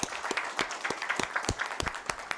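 An audience at an evening leadership roundtable event claps in a sparse, fairly faint round, with distinct individual claps spaced unevenly across the moment.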